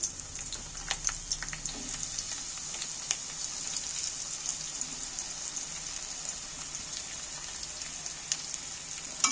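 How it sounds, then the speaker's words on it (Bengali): Chopped onions sizzle steadily in hot oil for a chicken biryani, a constant close, even frying hiss with small crackles and no voices. "এবার কাটা পেঁয়াজগুলো আমি তেলের মধ্যে তুলে দিচ্ছি"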